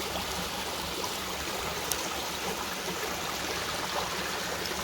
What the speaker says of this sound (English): This is like the third creek in like 1/8 of a mile or something